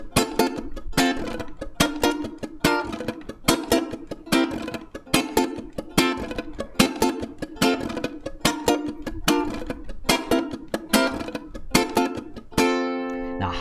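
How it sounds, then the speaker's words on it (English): Ukulele strumming with a rolled stroke on the first beat of each bar, a steady rhythmic pattern of bright chords up close, ending on a sustained ringing chord. "We're gonna add a roll, so it's gonna sound like this."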